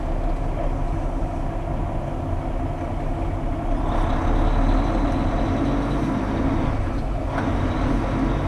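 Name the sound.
truck backing into a parking spot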